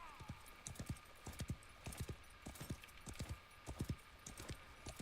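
A horse walks along in Wild West Online, its hooves clip-clopping in a steady, quiet rhythm under a faint sustained tone.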